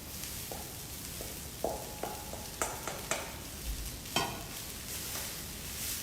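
Cooked rice hits a hot pan for veggie fried rice, setting off a steady sizzle with sharp clinks and scrapes of stirring scattered over a few seconds, close and fairly loud, with no talking.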